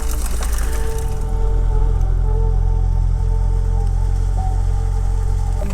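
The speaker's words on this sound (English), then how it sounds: "We're having a slow start today because it's raining again." Steady rain patters on a surface, a constant wash of noise with a low rumble underneath, continuous throughout.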